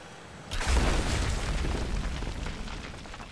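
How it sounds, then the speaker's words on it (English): A single loud explosion in the video game Rise of the Tomb Raider booms suddenly, then rumbles on with a long, rolling decay of crackling debris. "It's a hell of an explosion."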